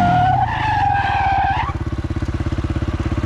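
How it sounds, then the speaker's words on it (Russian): A quad bike skids into a turn under front braking, a rising tire squeal lasting over a second, then the engine settles into a close, rhythmic pulsing throb. "Просто блокировка, добавляем передний тормоз, делаем разворот."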